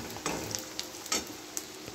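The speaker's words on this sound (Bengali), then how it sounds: "পেঁয়াজটা একটু ভাজতে টাইম লাগবে, লাল লাল করে ভেজে নেব।" Onions frying in a pan for a spicy Bihari chicken curry: a quiet, continuous sizzle broken by a few light clicks and scrapes of stirring.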